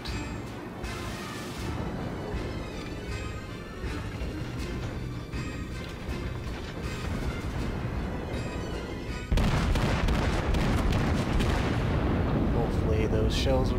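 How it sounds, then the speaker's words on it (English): Battleship Fuso in a naval video game firing artillery shells: repeated heavy cannon booms over a constant rumbling background, with a louder burst of salvos near the end. "Might as well fire shells."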